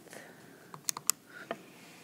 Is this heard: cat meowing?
no